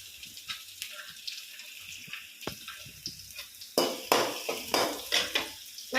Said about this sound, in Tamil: ஒரு கிண்டு கிண்டிக்கிறோம்.